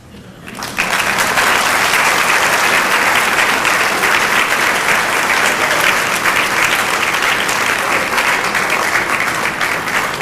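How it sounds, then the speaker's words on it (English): A crowd at a 2010 Dubois 125th anniversary queen pageant claps steadily and loudly for about ten seconds after a brief quiet start, a dense, sustained wash of applause with no talking. "Sure, you can clap"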